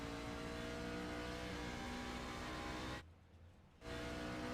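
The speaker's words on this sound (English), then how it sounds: "Derek Myers downshifting." A race car in a racing sim game at Phoenix, its engine droning steadily and loudly, then briefly cutting back to a low murmur during a downshift before the full engine note returns.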